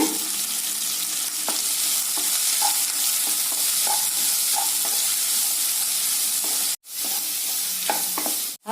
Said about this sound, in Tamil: இதையெல்லாம் நல்லா இந்த எண்ணெயில் வறுத்துக்கலாங்க